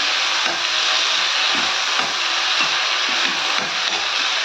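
Mint chutney ingredients, fresh mint among them, being sautéed in a pan, giving a steady close sizzle and frying hiss with faint scrapes and stirring clicks throughout, without talk.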